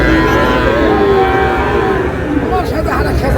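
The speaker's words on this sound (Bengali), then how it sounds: "আর আমরা দেখছিলাম এখানে একটি গরু দেখছেন" A cow at a cattle market lets out a long, loud, close moo with a wavering tone, set against busy crowd noise from the market.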